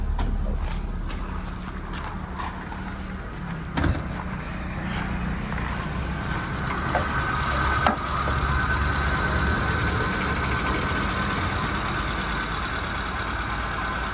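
2012 Hyundai Santro engine idling quietly, a soft, steady low hum throughout with a couple of faint knocks and light background noise.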